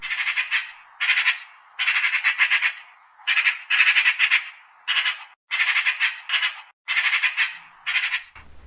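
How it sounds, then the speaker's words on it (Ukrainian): A magpie chatters in repeated harsh, rattling bursts, each a quick series of raspy notes separated by short pauses, close and loud. "давайте послухаємо, як скрекоче сорока"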